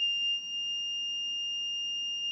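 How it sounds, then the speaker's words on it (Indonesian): A buzzer wired into a playdough circuit gives a steady, continuous electronic tone, held at an even level throughout against low background hiss. "Itu tadi buzzer untuk di rangkaian seri dan di rangkaian paralel"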